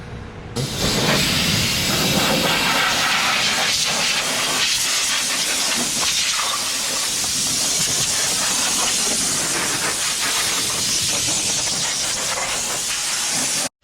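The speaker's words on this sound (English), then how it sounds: "the homie's cutting the studs for the hood latch because it hits my intakes" Cutting tool slicing through hood latch studs on a Nissan 350Z race car, a loud steady hissing, grinding roar running nearly unbroken for about thirteen seconds.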